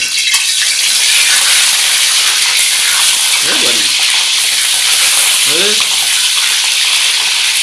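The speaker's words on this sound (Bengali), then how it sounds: "ডিমগুলো ভেজে নেওয়া হচ্ছে" Eggs fry in a pan with a loud, steady sizzling hiss throughout, while a couple of brief voices come through faintly underneath.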